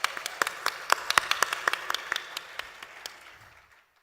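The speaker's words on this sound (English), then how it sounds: "Can I please ask a warm round of applause for all these hundreds of people who collaborated already?" Audience applause at a conference, a burst of clapping that starts strong and fades out over about four seconds.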